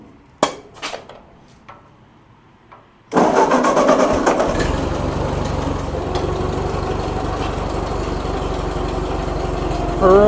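A few clicks and clunks on a farm, then an old tractor engine turns over and catches, settling into a loud, steady, rattling idle that keeps running.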